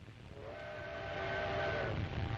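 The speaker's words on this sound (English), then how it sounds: "The train rattles across desolate country the Italians will have to fight across." A steam-era train crosses desolate Ethiopian country in 1935, giving a low rumbling rattle while a long steady whistle sounds in the middle and then fades, with no talking.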